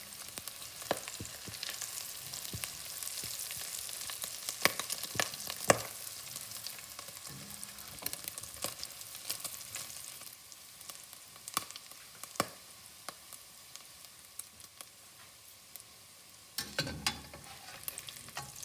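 Pancetta and shallots frying slowly in a pan give a quiet, steady sizzle close by, broken by occasional sharp stirring clicks and scrapes against the pan.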